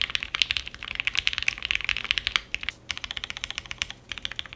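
Steady, rapid typing on a custom mechanical keyboard fitted with Black Ink switches, with dense close-up clacks in quick uneven bursts, a brief pause, then more even keystrokes.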